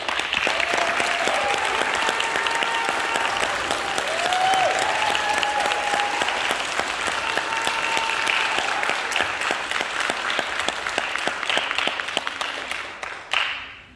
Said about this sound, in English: a round of applause for all the NJROTC cadets presented here